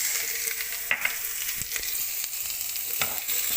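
Shallots and crushed ginger frying in sesame oil in a wok, a steady close sizzle with crackling spits and occasional stirring scrapes throughout, no talking.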